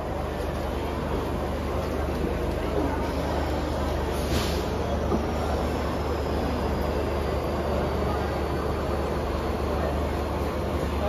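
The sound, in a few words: Mumbai local train at Kurla railway station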